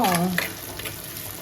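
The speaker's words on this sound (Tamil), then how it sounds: "ஒரு தக்காளியை மீன் குழம்புக்கெல்லாம் ரொம்பலாம் தக்காளி போட வேண்டியதில்ல நல்லா வதக்கி வரட்டும்" Tomato sautés in a pan for a village-style fish curry, a steady close sizzle under occasional stirring ticks, opened by a brief voice-like tone.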